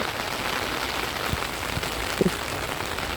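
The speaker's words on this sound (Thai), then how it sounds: "ฝนแรงค่ะเนาะ" Heavy rain pours steadily onto surfaces, a dense continuous hiss with a few louder drops and knocks close by.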